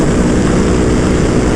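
A Ducati Panigale V2 with a Vandemon full exhaust roars loud and close in a dense, steady engine drone.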